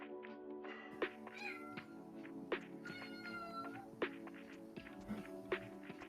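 A cat meows repeatedly nearby, several short plaintive calls spaced a second or so apart, fairly quiet against a low background hum.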